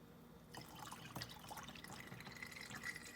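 Vinegar, lemon juice and Blue Dawn dish soap pouring into a cleaning bottle with a steady trickling, gurgling splash that starts abruptly after a short quiet moment, close and fairly soft.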